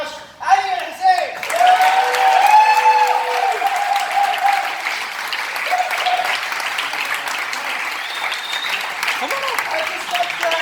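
Sustained audience applause at an evening event in Mashq, a dense steady wash of clapping from many hands after a short opening burst, with voices talking and calling out over it.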